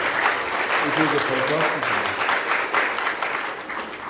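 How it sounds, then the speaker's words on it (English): An audience at a primary health care book presentation claps steadily for several seconds, a dense sustained round of applause that tapers slightly at the end, with a voice speaking briefly underneath. "can we give them the round of applause?"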